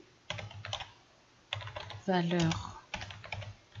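Typing on a computer keyboard, close and quiet, with quick bursts of key clicks separated by pauses, while someone speaks briefly partway through.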